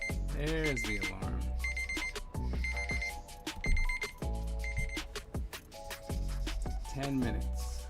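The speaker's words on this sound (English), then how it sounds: "There's the alarm." An alarm clock rings with a bright, repeating electronic tone at the end of a timed work session, looping in short bursts under loud, busy background music.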